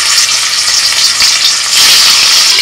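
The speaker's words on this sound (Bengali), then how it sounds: "দেখো ওই মাছ খুব তেল ছেটকায়।" Tangra fish frying in mustard oil in a home kitchen, a loud steady sizzle with constant splattering crackle that swells louder toward the end, no voices.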